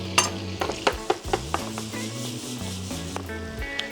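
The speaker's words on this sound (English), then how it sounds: "Okay, so as that butter is melted, I will add the shallot in there. All right, let that saute for a moment." Shallot sautés in melted butter in a pan, a soft sizzle under clinks and scrapes of a utensil against the pan, close and moderately quiet.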